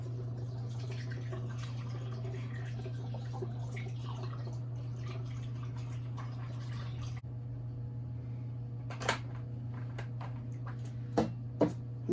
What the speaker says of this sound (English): and we're just going to pour.